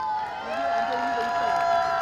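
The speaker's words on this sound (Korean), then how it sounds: "다시 한번 박수!" Audience at an autumn outdoor concert in Gyeryong applauding and cheering, a steady, dense wash of clapping and crowd noise with sustained tonal sounds running through it for the full two seconds.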